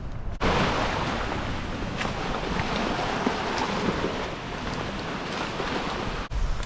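Ocean waves at Nukuoro Atoll roll in as a steady, continuous wash of surf, blended with wind rushing across the microphone throughout, with no voices.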